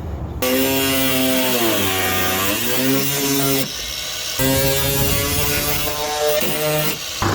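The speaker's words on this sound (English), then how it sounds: "I'm going to give this bit a little trim with the Dremel" Dremel rotary tool trimming a plastic front flap on a Land Cruiser 100 Series, a loud continuous high whine that dips and rises in pitch as it bites into the plastic, briefly pausing once, with no talking.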